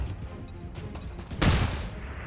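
A frag grenade thrown in XCOM 2, a few short clicks and taps, then a loud, sudden explosion that booms and slowly fades away.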